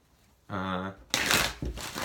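Tarot cards are shuffled by hand, a brief papery riffle that follows a short stretch of voice, with a second burst of shuffling near the end.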